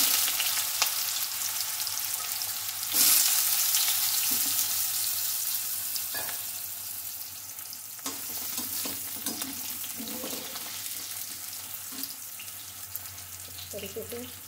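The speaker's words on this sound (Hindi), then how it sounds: "इसको अच्छे से हम फ्राई कर लेते हैं गोल्डन होने पर" Green papaya pieces fry in hot oil, giving a steady, close sizzle overlaid with occasional spatula scrapes and light knocks against the pan, no one speaking.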